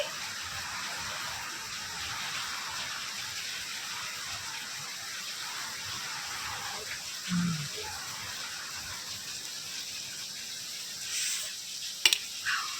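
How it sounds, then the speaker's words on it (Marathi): Steady, dense hiss of heavy rain pouring continuously, with a couple of brief knocks near the end and no talking. "पाऊस आलाय खूप जोराचा"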